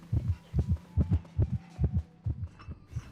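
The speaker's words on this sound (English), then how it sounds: "as soon as you get a heartbeat, literally as soon as you get a heartbeat, run to this pallet" A heartbeat thumps in Identity V as the warning that the hunter is approaching. The double beats are steady and evenly spaced, low and muffled, and run for about eight pulses.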